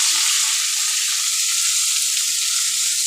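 Capsicum, chilli and onion fry in a hot pan, giving a loud, dense, unbroken sizzle close up with no pauses.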